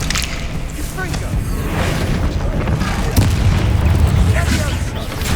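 Repeated booming spell blasts from Confringo in Hogwarts Legacy burst over a continuous rumble of combat, loud and close, with a voice calling out among the explosions.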